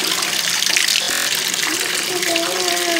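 Water pours steadily from a tap into a tub, a loud continuous gushing splash throughout, with a brief voice breaking in near the end.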